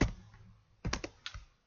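Computer keyboard typing: a quick burst of key taps at the start, then a denser cluster of clacks after a pause, followed by a couple more taps, close and fairly quiet, with no talking.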